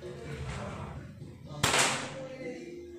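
A single sharp PCP air rifle shot cracks out midway, a sudden loud snap with a short fading tail, after a quieter stretch of background noise.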